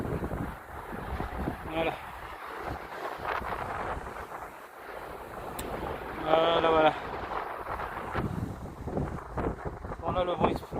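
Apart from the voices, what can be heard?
strong wind blowing at the beach on a rock pile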